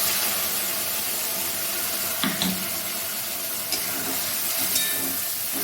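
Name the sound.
ground spice paste added to frying pan, sizzling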